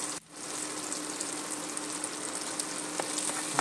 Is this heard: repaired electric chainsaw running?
no